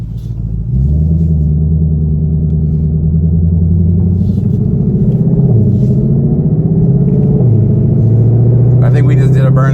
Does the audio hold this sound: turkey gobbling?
no